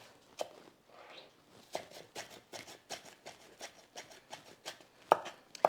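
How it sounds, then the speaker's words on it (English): A knife chops thyme and onion together on a cutting board, giving a close series of crisp, uneven taps in quick bursts with brief pauses and no talking. "And then let's just chop these together a little bit."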